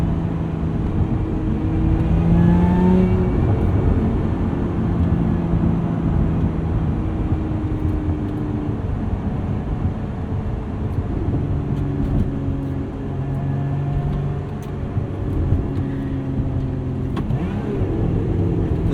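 Engine of a 2024 Lotus Emira mid-engine sports car pulling steadily from around 3,000 RPM, a continuous loud drone with shifting tonal lines and no talk over it.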